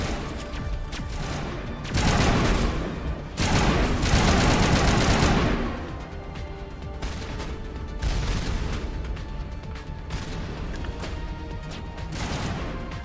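Gunfire in Mass Effect: rapid bursts of automatic shots and impacts, loud and dense for several seconds, then sparser shots and explosions in the background.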